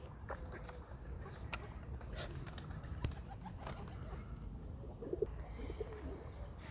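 Soft pigeon coos repeat now and then over a quiet outdoor background at a place with ducks and swans, with faint chirps and light rustling scattered throughout.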